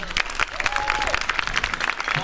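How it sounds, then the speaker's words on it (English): Audience at a school band concert giving a round of applause for a volunteer helper, steady dense clapping from a crowd, with a voice briefly over it. "Round of applause for John."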